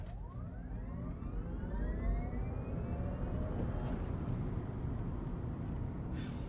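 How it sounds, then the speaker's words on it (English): A 2022 Rivian R1T quad-motor electric pickup launches hard from a standstill, its rising electric motor whine sweeping upward in pitch over steady road and wind rumble, loud and continuous throughout. "I am going to hold the brake while I pin the throttle, see if I can prime it a bit better."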